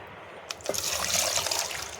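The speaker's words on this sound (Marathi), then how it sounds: "आता आपण यामध्ये पाणी ॲड करायचं आहे" Water is poured into a pot of soaked chickpeas, a short splashing gush that settles into a steady filling trickle, close and fairly quiet.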